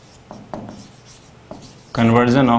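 Soft scratchy writing strokes on a board during a Hindi chemistry lesson, faint and intermittent for about two seconds before a voice starts speaking.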